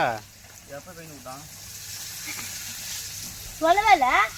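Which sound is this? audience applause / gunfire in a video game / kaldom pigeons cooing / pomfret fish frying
pomfret fish frying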